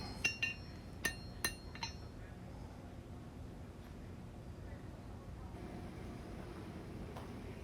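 A hammer strikes 1/8 inch 1095 steel while a small knife blade is hand forged, a handful of sharp ringing blows early on, then quiet shop ambience.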